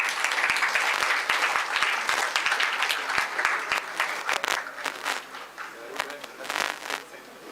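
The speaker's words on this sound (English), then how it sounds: "A round of applause." An audience at a medical college orientation programme for first-year MBBS students applauds, a dense burst of clapping that gradually thins out into scattered claps and fades toward the end.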